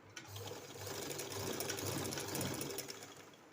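Sewing machine stitching a slanted seam on a flared princess-cut kurti, a steady continuous motor whir with rapid needle clatter running unbroken, close and fairly loud throughout.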